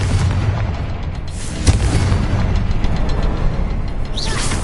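Confringo blasting spell exploding in the Hogwarts Legacy video game, a loud booming blast with a sharp burst near the middle over a continuous rumbling low roar, close and heavy, no speech.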